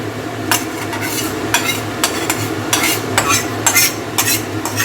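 A spoon scrapes and knocks repeatedly through a pan as lentils are stirred into hot spiced oil tempering for a radish and pea dal, under a steady low sizzle, with no talking.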